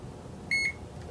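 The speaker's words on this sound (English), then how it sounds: "You will hear a beep sound" A single short electronic beep from a car air purifier, clear and close, in an otherwise quiet room with faint background hiss.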